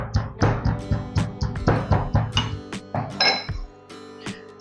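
Lid clinking onto a pot of fish stew in a home kitchen, several light metallic taps and clatters in quick succession, close and fairly loud with no talk.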